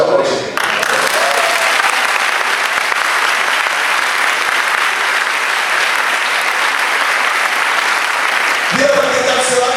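A church congregation applauds during a sermon, loud continuous clapping filling the room for several seconds, with a voice heard briefly at the start and again as the applause ends.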